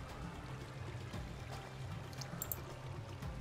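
Water in a video game pours and streams continuously at a low, steady level, a soft rushing trickle with a few faint higher splashes.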